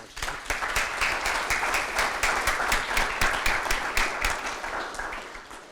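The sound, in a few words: round of applause for seminar speakers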